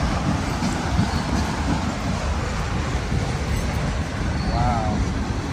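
A long, graffiti-covered freight train rolls past at a Berkeley crossing, a continuous broad rumble and rattle of rail cars, close and steady throughout, with brief faint tonal squeals.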